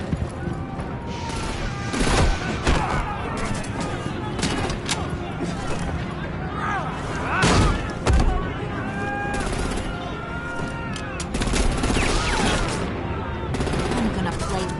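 Gunfire in Batman: The Enemy Within, with repeated bursts and sharp shots crackling through a busy mix of voices and action effects.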